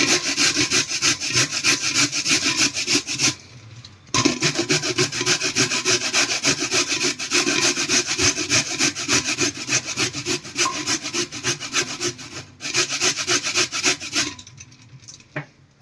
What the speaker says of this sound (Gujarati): આ રીતના આપણે ઝીણી ખમણી છે ને એમાં ખમણશું એટલે એકદમ સરસ ઝીણું ખમણ થાય